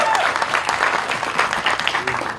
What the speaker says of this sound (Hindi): सरीबाजी के लिए एक बार जोरदार ताली होनी चाहिए